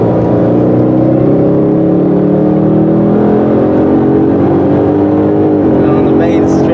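A 700 horsepower supercharged Roush Mustang roars on a track, its engine note loud and sustained from inside the car, pitch rising slowly and holding steady with one brief dip near the end.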